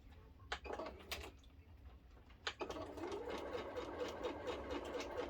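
A sewing machine stitches quilt block pieces along a marked line, with a couple of short quick bursts followed by a steady, continuous run of rapid needle clatter, close and fairly quiet.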